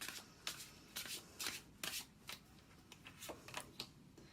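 Tarot cards being shuffled by hand, a rhythmic series of soft riffling bursts roughly every half second, quiet and close with no speech.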